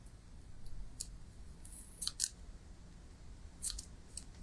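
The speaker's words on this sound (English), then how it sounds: "And then I just trim off the extra piece." Scissors make a few crisp snips, quiet and close, as an extra piece of paper is trimmed off a duck pond card or bookmark.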